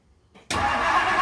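A Mercury car engine fitted with a rebuilt Motorcraft 2100 carburetor cranks and catches abruptly, then settles into a loud, steady running roar close by.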